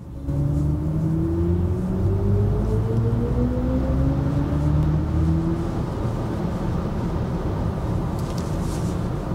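A BMW iX3 electric car accelerates from 60 to 110 km/h. A rising electric motor whine climbs steadily over a broad road and wind rumble, heard from inside the cabin with no talk.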